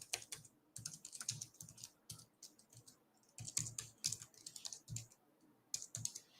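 Typing on a computer keyboard while filling in a subject field of a website contact form: irregular bursts of sharp key clicks with short pauses between words, moderately close and alone.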